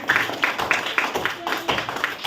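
A group of children clap their hands together in a classroom, a quick run of sharp, fairly close claps with brief voices mixed in.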